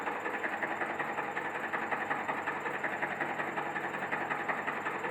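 A medium-voltage circuit breaker's motor charges its springs during a CIBANO 500 test, giving a faint, steady mechanical whir with a fast regular pulsing vibration throughout.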